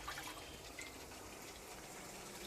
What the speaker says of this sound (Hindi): तकरीबन मैंने इसमें 100 ml के करीब टोटल पानी ऐड कर दिया है।